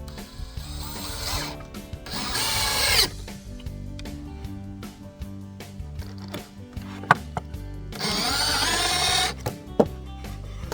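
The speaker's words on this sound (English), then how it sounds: "Go ahead and pre-drill my holes." A power drill pre-drilling holes in wood whirs in two bursts of a few seconds each, separated by clicks and mechanical rattling, close by.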